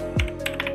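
A few quick keystrokes on a computer keyboard as a web address is typed, close and crisp, with a soft thump at the start.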